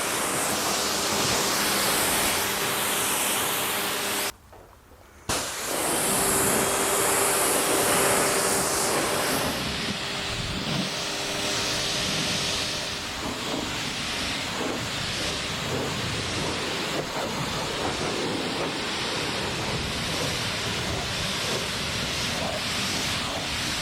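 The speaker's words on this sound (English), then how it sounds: "I'm rinsing from the bottom up." A water spray rinsing a car, a loud continuous hiss and splash close by with one brief pause near the start before the steady rush resumes.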